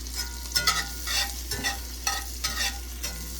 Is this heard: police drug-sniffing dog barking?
no